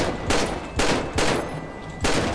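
Gunfire at car tyres in the video game GTA: four loud, sharp bursts of shots at roughly even intervals, close and punchy with no voices over them.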